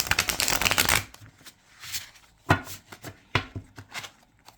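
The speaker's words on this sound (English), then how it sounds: "So let's shuffle these a little bit." A deck of tarot cards riffled and shuffled up close, one long burst followed by several shorter crisp flurries.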